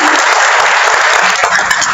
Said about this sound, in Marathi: सर्वांनी टाळ्या वाजवा त्यांच्यासाठी